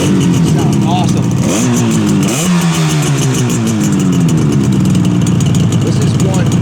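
A 1972 Yamaha YDS7 250 two-stroke motorcycle with original baffles runs loud and close, idling and then revving with rising and falling engine pitch. A voice talks over it.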